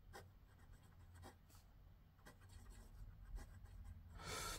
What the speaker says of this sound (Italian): Ma la penna scrive abbastanza fluidamente, non è un burro